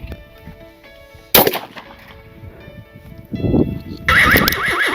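A single sharp, close gunshot cracks out of a quiet outdoor scene at a hunting practice, followed by rustling movement and a brief burst of higher-pitched noise.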